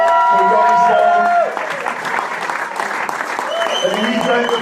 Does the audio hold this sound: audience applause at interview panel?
yes